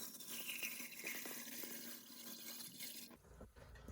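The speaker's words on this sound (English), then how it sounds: "We're going to add enough water to cover about 2 inches above the egg." Water runs from a tap into a pot holding two eggs, a steady broadband rush with a faint filling tone, close and continuous for about three seconds before cutting off, no voices.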